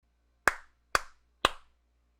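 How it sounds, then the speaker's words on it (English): Three sharp, evenly spaced hand claps, close and loud with short decays, made as an audio sync test against near silence. "I will check to see whether my clapping is in sync or not"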